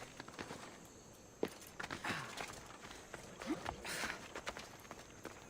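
Horse hooves of a steed in Assassin's Creed Odyssey, a steady patter of footfalls clip-clopping close by over a busy game soundscape, with occasional sharper knocks standing out.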